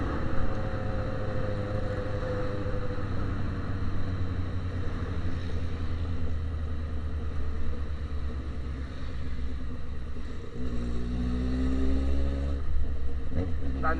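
A Yamaha XJ6 motorcycle with an exhaust-only setup idles with a steady, throbbing low rumble, then blips its throttle in two quick revs near the end, close by.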